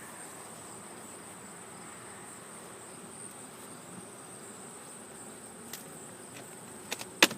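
Honey bees humming around an open beehive holding some 30,000 bees, a steady insect drone with a few louder bursts near the end.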